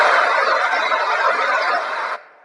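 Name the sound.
forest nature sound played at Xiaomi launch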